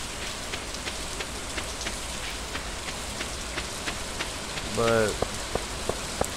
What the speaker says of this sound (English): We're not going to see too many people out and about because it's raining.